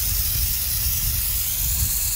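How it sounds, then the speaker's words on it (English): An aerosol rust inhibitor and neutralizer sprays onto a broad knife in one steady, close hiss that holds evenly from start to finish. "So I'll spray it directly on it,"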